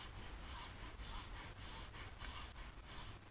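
Someone breathes out in a steady rhythm through the nose while pulling in the belly, as part of a breathing exercise for surfers. Five short, airy exhales come at regular intervals, faint and close, with no speech.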